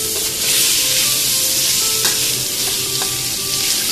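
Steady loud sizzling of pork belly and minced lean pork stir-frying with fermented soybean paste in an oiled pan, with scraping stirs of a utensil against the pan at a few points.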